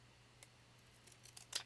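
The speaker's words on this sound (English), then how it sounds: "then I can use these scissors" Faint, soft snips of scissors cutting paper, a few sparse clicks that quicken toward the end, heard alone in a quiet room.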